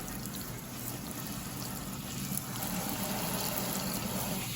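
Water runs steadily while rinsing relaxed hair with starter locs, a soft continuous wash of splashing and flow at low volume with no talk over it.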